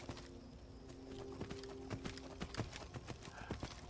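Horse hooves clip-clop in an irregular walking rhythm in the video game Skyrim, moderately close over a faint ambient hum.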